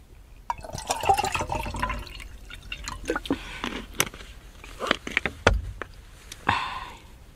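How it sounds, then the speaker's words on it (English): Water poured into a container on a fell walk at Lingmoor Fell, with splashing, trickling and dripping bursts that come and go over several seconds, fairly close. "let's get some water in there."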